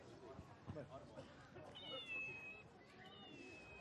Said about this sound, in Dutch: Ja, dat was dan de Kolmer kat